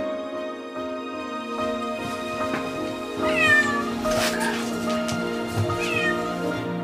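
A cat stuck in a car wheel in St. Petersburg, Russia, meows repeatedly, drawn-out cries rising and falling close by over a low, steady background hum.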